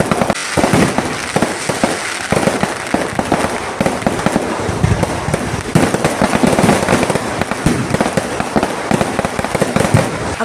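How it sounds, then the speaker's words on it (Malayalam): A fireworks display at the pindi perunnal festival of Kumbidi church crackles and bangs in a dense, loud, unbroken barrage of rapid firecracker bursts, with no talking. "ഒന്നൊന്നായി വെടിക്കെട്ടായിരുന്നു"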